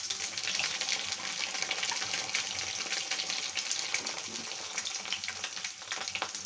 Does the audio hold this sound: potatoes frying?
yes